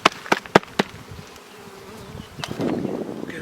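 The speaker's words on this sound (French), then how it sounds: "on peut le retirer, secouer les abeilles" Honeybees at an open hive during a spring inspection, with a few sharp taps and knocks of frames at first, then a low, steady buzzing that swells toward the end.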